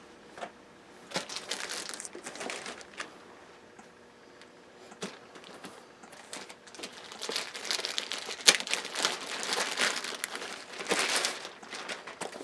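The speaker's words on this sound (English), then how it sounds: "Here's the new plastic packaging." Plastic packaging for PA sets being handled up close, with bursts of crinkling and crumpling that come and go throughout, growing louder and busier toward the end, with no talking.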